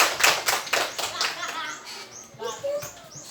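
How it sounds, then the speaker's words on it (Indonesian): An audience at a school teachers' gathering gives a short round of applause with brisk clapping that fades within a few seconds. Faint chirpy sounds and some voices are mixed in. "berikan aplaus untuk Ibu Mary"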